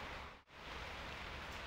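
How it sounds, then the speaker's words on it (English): Steady, dense rain pours down on a boat's back deck with a constant hiss, broken only by one brief dip. "it pees down with rain"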